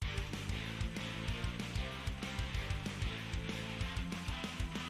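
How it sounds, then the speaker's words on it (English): Dense build-up section of an anime-style opening theme with layered strings over steady driving drums and full instrumentation, playing continuously at moderate level without any voices. "And then I added strings to this too."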